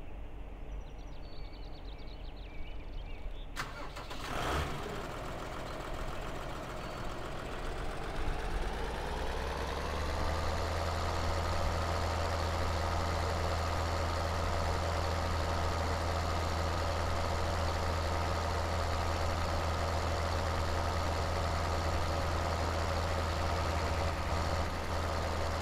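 A harvester engine in Farming Simulator 2013 cranks, catches and settles into a steady, loud, low idle that continues without talk.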